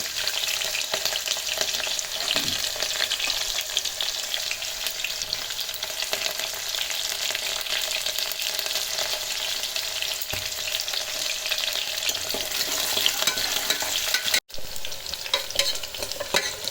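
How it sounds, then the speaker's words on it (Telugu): Sliced onions frying in hot oil in a pan for mutton curry, a loud steady sizzle with occasional stirring scrapes, close up and continuous with no voice. "ఉల్లిగడ్డ వేస్తున్నాను"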